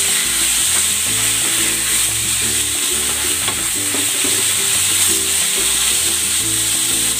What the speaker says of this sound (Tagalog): At igigisa ko lang ito ng maigi.